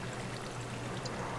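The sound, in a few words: water poured from a bucket in Minecraft, video game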